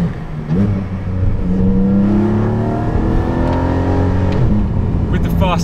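A Porsche engine drones and revs steadily through sports air filters set behind the seats, its pitch rising and falling with a throaty intake growl, close and loud throughout.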